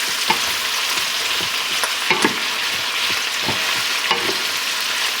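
String beans, ham and onions sautéing in a pan, a continuous bright sizzle with occasional soft clinks and scrapes of stirring, close and alone.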